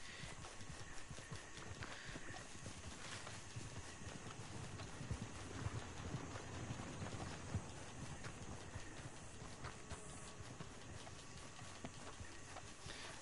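Horse hooves clip-clop steadily in Red Dead Online, a continuous galloping rhythm under a dense bed of game ambience, fairly quiet throughout.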